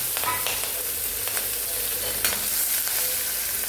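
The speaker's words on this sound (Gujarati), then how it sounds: "આપણે આને લો ફ્લેમ પર 10 સેકન્ડ ફ્રાય કરી લેશું" Spices for a dry moong bean curry fry on a low flame, a steady close sizzle with occasional soft stirring scrapes and clicks, with no voices.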